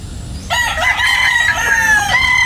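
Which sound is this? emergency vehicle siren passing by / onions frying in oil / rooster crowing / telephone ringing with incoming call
rooster crowing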